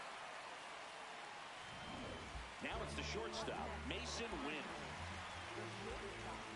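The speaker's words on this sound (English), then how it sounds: "It feels like we might be headed towards a rain delay if the weather doesn't ease up" Steady rain pours down throughout a baseball video game, a dense hiss that thickens partway through, with the play-by-play commentator speaking over it.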